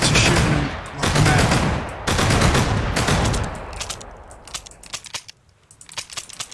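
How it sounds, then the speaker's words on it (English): Rapid automatic weapon fire from the video game Sunkenland, dense bursts of rounds for the first few seconds, then thinning into scattered, sharper shots and clinks as the shooting stops. "You can switch back to your weapon, fire a few rounds at them"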